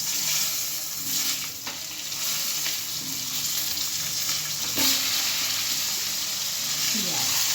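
Potatoes frying in hot oil with cumin seeds and bay leaf, a steady close sizzle with a few clinks and stirring scrapes, no talk over it.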